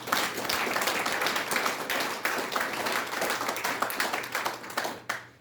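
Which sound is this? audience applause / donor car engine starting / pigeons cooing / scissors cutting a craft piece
audience applause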